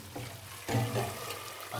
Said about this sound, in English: the pasta's drained out